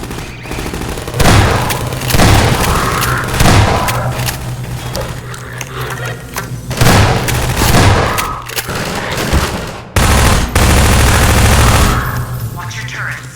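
Automated sentry turrets fire sustained bursts of gunfire in Half-Life 2, rattling fusillades loud and close with thuds and booms mixed in, pausing briefly before resuming.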